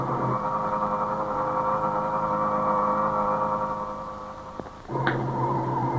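Spaceship carrier engines activating in an audio drama: a steady, loud electronic engine hum with layered tones drones throughout, briefly cuts out near the end, then surges back with a sharp rising whine.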